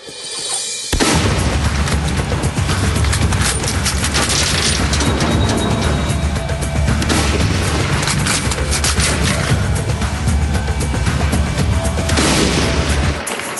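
Mannlicher rifle fired at a range, with dense booming reports and continuous loud rumbling that run almost without a break, so single shots are hard to pick out.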